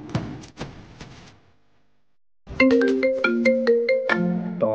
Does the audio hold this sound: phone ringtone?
yes